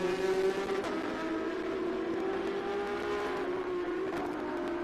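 International GT endurance race cars run at Circuit of the Americas in Austin, Texas, on a Sunday morning, a steady engine drone from a distance with the pitch slowly falling as a car passes, no voices.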